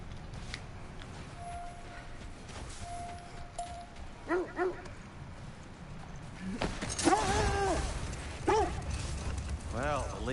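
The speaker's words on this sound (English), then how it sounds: "Barking and excitement increases when nearing the source." Wolves in God of War Ragnarök give several short, excited barks and yelps, spaced a few seconds apart, over quiet game ambience. The barks grow louder and more frequent toward the end.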